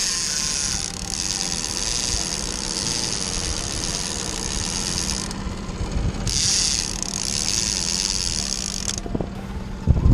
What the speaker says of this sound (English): Flop her in. Let her out. Put the clicker on if you want.